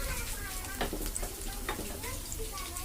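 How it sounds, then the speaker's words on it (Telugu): Onion vada balls deep fry in oil with a continuous, close, crackling sizzle and bubbling, broken by light spattering pops. "బాల్ షేప్ కొన్ని చేసుకున్నాను అవి వేసుకుని ఫ్రై చేసుకుంటాను"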